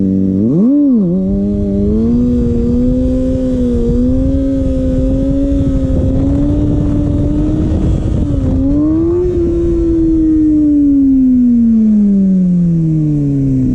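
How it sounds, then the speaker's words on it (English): A Kawasaki ZX-6R motorcycle engine held at high revs during a wheelie, a loud, close, sustained droning whine that rises, dips briefly and then slowly falls in pitch, with no talking. "let's do the best wheelie I've ever done"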